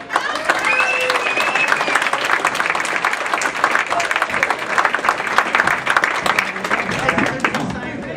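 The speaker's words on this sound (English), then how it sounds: "please give a nice warm welcome, round of applause for Mr. Jay Bach" Warm, steady applause from a live audience welcoming a performer onstage, dense clapping held for about eight seconds with a few voices underneath.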